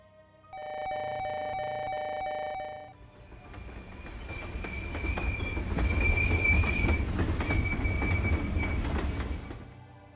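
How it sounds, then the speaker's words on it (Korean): A subway train pulls into a station: a chime plays first, then wheels rumble and squeal with rising metallic tones as the cars roll in close and loud before easing off. "열차가 도착해서 문이 열렸고"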